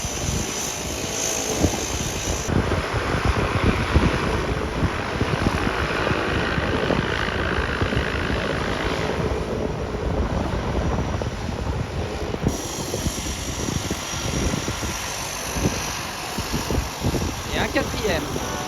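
Aircraft engines and propellers drone continuously near an airfield where planes take off and land, a loud broad roar that swells and shifts over the stretch, with people talking intermittently underneath.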